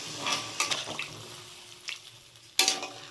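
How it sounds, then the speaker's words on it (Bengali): Water hits a simmering pan of fish curry with winter vegetables, giving a couple of short splashing gushes over a soft sizzle, close by with no talk. "আমি জল দিয়ে দিচ্ছি এবার"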